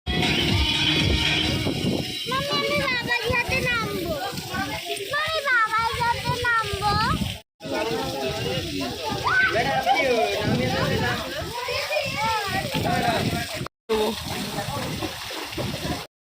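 A crowded indoor swimming pool, with children shouting and squealing over continuous splashing and sloshing water that echoes around the hall, broken by two brief cuts.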